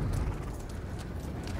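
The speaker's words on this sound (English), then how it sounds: "Donkey." Donkey hooves clop in A Plague Tale Requiem, a steady rapid clip-clop of hoof steps that stays close and loud throughout.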